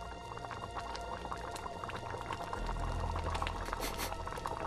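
Soup bubbling at a steady boil in a pot on a stove, a dense continuous simmer that grows slightly louder partway through, with no voices.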